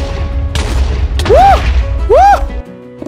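Deep booms of a Minecraft explosion in a survival game, two broadband bursts early on, followed by rising-and-falling tonal sweeps over a steady low rumble.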